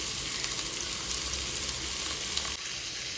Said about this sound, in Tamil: நம்ம 3 மீடியம் சைஸ் ஆனியன் கட் பண்ணி எடுத்துருக்கோம் இல்லையா, அதை சேர்த்து நல்லா கோல்டன் ப்ரௌன் ஆகிற வரைக்கும் ஃப்ரை பண்ணி எடுத்துக்கலாம்